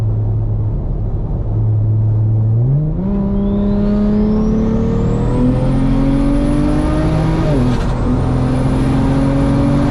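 A big-turbo BMW 335i with a 3.5-inch exhaust accelerates hard, its engine note climbing steadily through a gear with a rising turbo whistle above, a brief dip at a shift, then pulling on loudly and close.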